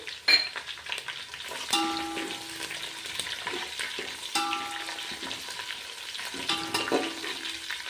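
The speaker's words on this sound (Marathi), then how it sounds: "तर आलं लसूण पेस्ट आपल्याला लाल होतेपर्यंत परतवायची" Ginger garlic paste frying in a pan, a steady close sizzle with occasional stirring scrapes and clinks, no voices.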